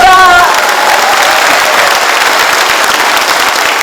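Sustained audience applause fills an inauguration ceremony hall for the new provincial governor, a dense steady wash of many hands clapping, loud and close, with a brief voice at the very start.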